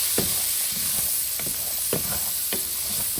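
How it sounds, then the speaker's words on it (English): Butter and onion sautéing in a pan, a steady bright sizzle and hiss with occasional soft stirring scrapes, close and continuous. "So to the same pan, I'll add some butter and now some onion and saute that"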